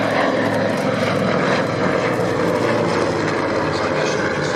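An Avro 19 propeller aircraft passes at an air show, its piston engine a loud, steady droning rumble with a throbbing propeller beat that holds constant throughout.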